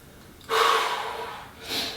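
Heavy, forceful breaths during a held exercise position: a loud rushing exhale that tapers over about a second, then a second sharp breath, close to the microphone with no talking.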